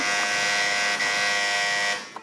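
A quiz-show buzzer pressed by a contestant in a children's Eid quiz gives one loud, steady electronic buzz held for about two seconds, then cuts off abruptly.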